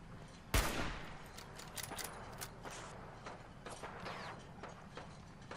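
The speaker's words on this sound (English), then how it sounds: "Oh, they're actually shooting at me." Enemy gunfire in Fallout 4: one sharp nearby shot cracks out, then a scatter of fainter, more distant shots and impacts over a low game background, with no voices.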